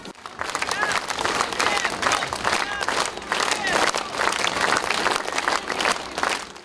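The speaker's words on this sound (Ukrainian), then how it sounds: "з містянами, які аплодують своєму меру востаннє" Townspeople in Chernivtsi applaud their late mayor one last time at his farewell, a large outdoor crowd clapping in strong, rhythmic waves, loud and sustained, with voices and murmuring underneath.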